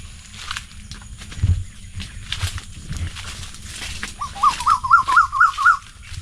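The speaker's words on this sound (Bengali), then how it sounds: "সুন্দর সুন্দর পাখির আওয়াজ" Small birds chirp in a mango orchard among young fruit-bearing mango trees, with a clear run of repeated rising calls near the end over soft rustling and faint footsteps.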